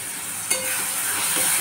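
Peanuts stirred into baingan bharta in a pan, a soft steady sizzle and hiss with a brief scrape of the spoon partway through, close and quiet.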